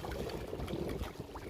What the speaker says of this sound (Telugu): ప్యూర్గా ఆ వాటర్ సౌండ్ అనేది